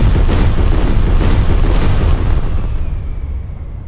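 Fireworks fired from a model rocket setup give a loud, close run of booming bursts and crackle, then fade into a decaying rumble.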